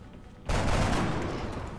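A burst of gunfire in the turn-based strategy video game XCOM: Enemy Unknown. It starts suddenly after a short quiet lead-in and stays loud, close and continuous for over a second.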